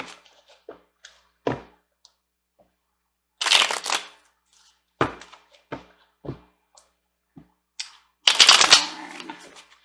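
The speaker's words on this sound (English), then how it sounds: "Sorry, the cards are a little loud." Brand-new tarot cards riffle-shuffled close up in bursts, short dry flutters and taps between them, with two loud dense riffles standing out, no talking.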